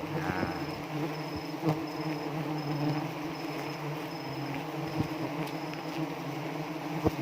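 A steady, dense buzzing of many honey bees fills the air continuously, fairly close, with a few faint bleat-like sounds in the background and no talking.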